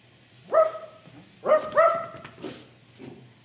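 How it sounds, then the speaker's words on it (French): A dog barks alone in a few sharp, separate woofs, moderately loud and fairly close. A softer yip trails off at the end. "Le chien est seul."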